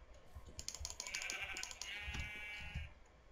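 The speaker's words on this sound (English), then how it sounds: "let me go over here and get this sheep here" Sheep in the Minecraft video game give two quavering bleats in a row, heard alongside rapid keyboard clicking and mouse taps, all fairly quiet and with no talking.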